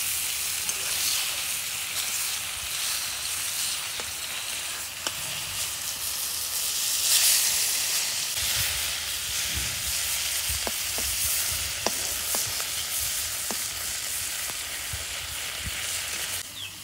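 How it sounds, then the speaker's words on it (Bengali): Batkya fish frying in oil in a pan sizzles with a continuous bright hiss, broken by occasional stirring clicks and brief spatters, steady and close with no talk. "মাছ এক পিঠ ভাজা হচ্ছে"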